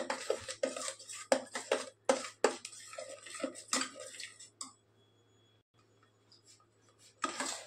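Masala for Agri-style dal mundi is sautéed in a pan, with a run of uneven spatula knocks and scrapes against the metal that fades to near silence before one more short clatter.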